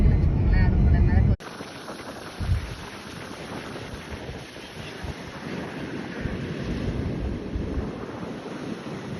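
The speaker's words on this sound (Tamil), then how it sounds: "அலையோட வேகம் அந்த அளவுக்கு இருக்கும்" Ocean waves at Pamban bridge in Rameswaram wash in a steady, broad rush with wind buffeting the microphone, after a short burst of talking at the start; the surf noise stays continuous and fairly loud throughout.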